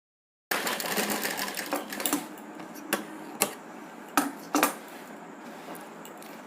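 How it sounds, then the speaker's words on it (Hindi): A sewing machine stitches salwar fabric in a steady, close, continuous whir for several seconds, broken by a few sharp clicks and taps near the end. "अब हम यहाँ से सिलाई यहाँ तक देंगे।"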